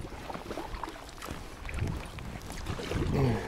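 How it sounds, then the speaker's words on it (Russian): Gusty wind rushes and buffets the microphone in uneven bursts on the Lower Tunguska river in Siberia, growing stronger toward the end, with faint water or boat noise beneath. "Ветер поднялся."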